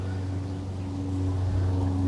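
An airplane passes over an urban backyard garden in April, heard as a steady low engine drone that swells slightly louder as it comes overhead, with no voices.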